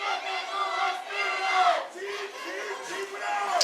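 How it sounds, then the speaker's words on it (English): Football crowd at a Mid-Prairie high school game chanting together in the stands on senior night, a dense rhythmic roar of many voices heard from a distance and sustained throughout. "Mid-Prairie crowd really getting into this one now. You can hear them chanting down there."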